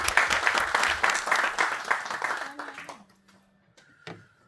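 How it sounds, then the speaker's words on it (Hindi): Dense clapping from a small group at an office retirement party, lively for about three seconds before abruptly dying away into near silence, followed by a faint brief tone. "ताली में कंजूसी मत करिए"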